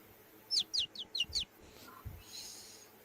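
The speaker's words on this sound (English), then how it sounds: "That was such a good bird." Five quick, high bird chirps sound in a fast row against a quiet room background, followed by a faint soft rustle and a low thump.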